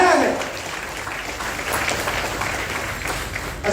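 An audience applauds loudly for a team after a demonstration at a talk about Kangen water. The dense clapping holds steady for several seconds, with voices mixed in.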